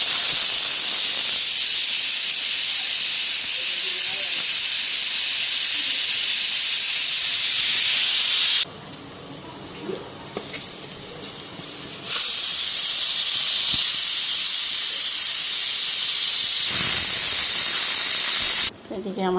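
Parathas sizzle in a hot pan with a steady, loud hiss that briefly drops away in the middle before the frying resumes at full strength.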